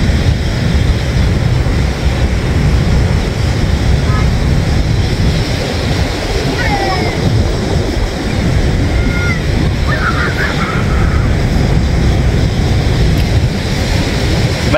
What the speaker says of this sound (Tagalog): Malakas ang alon, mas lalo kahapon.